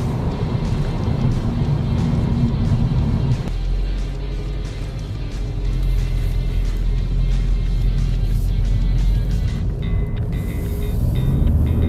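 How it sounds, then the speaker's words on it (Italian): An Audi A3 Sportback 2.0 TDI 150 diesel engine drones loudly and continuously under acceleration from inside the car, the tone shifting partway through as revs change. "se do gas alla vettura risponde come una sportiva di razza"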